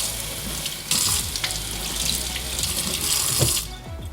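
Tap water runs steadily from a faucet over an Allbirds Wool Runner-up Mizzle Fluffs wool shoe, a close, continuous splashing rush that swells a little at moments with no one talking.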